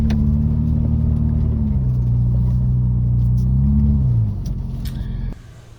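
A Toyota FJ four-wheel drive noses up a rock step off-road in Stanley Forest, its engine giving a loud, steady low rumble that dips and swells with throttle before easing off near the end.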